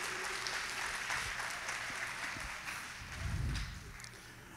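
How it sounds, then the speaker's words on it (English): A church congregation claps together during a sermon, a steady wash of applause that swells briefly near the end, fairly distant and diffuse. "Go ahead and clap."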